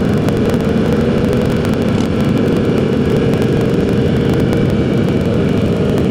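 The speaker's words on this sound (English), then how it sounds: "Got two MT-07s right now on the wheelie at the same time." Several Yamaha MT-07 motorcycles roar together during a massive group ride, with engine noise close, loud and unbroken, mixed with wind buffeting against the microphone.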